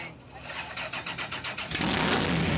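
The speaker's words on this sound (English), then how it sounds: "fire this thing up, Justin" Hot rod with a 427 engine cranks with rapid rhythmic starter pulses, then catches and bursts into a loud, steady roar close by.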